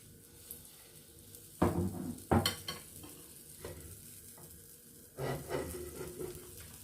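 Food sizzles and fries in a pan, with bursts of stirring and scraping around a couple of moments, then a longer stretch of spatula clatter near the end, mostly without talk.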